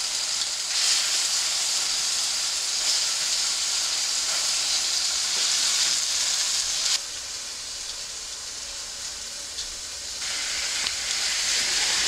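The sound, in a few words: meat sizzling as it is seared in a pan for goulash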